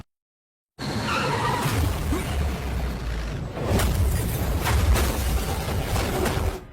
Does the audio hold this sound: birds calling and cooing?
no